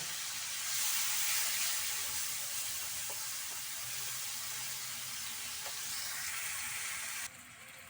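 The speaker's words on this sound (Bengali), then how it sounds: "এবার আমি মশলা দিচ্ছি, মশলার মধ্যে তোমার হলুদের গুঁড়ো, আদা, ধনে জিরের গুঁড়ো আর লঙ্কার গুঁড়ো দিয়ে দিচ্ছি" Ground turmeric, ginger, coriander-cumin and chilli powder fry in hot oil with a steady, soft hiss, the sizzle swelling slightly early on, a few faint clicks along the way, before dropping quieter near the end.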